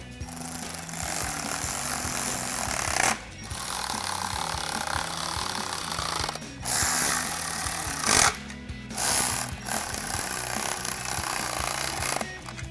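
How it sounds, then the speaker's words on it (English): A 13mm socket wrench tightening carriage bolts while a RAM 1500 power running board is fitted, giving repeated ratcheting and rasping bursts with brief pauses between them, close and fairly loud. "take my 13mm socket and tighten all these down"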